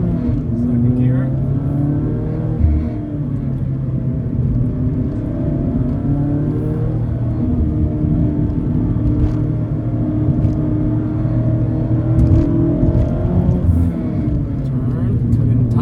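A 2022 Mazda Miata MX-5 RF Club with a Brembo package accelerates in second gear on a canyon drive, its engine note rising steadily in a close, continuous drone with road rumble underneath; a voice talks over it.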